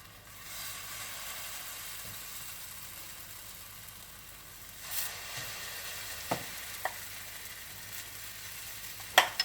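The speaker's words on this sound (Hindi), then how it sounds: "तो ये हमने उत्पम यहाँ पे रख दिए।" Small rava uttapam rounds sizzle steadily on a hot pan, a soft continuous frying hiss with a few faint clicks and taps near the end.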